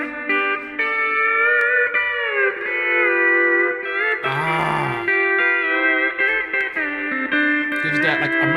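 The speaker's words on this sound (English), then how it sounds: "as well as the use of a steel guitar, which sounds like this." A steel guitar plays a country phrase alone, its sustained notes gliding and bending smoothly between pitches with a bright, ringing tone.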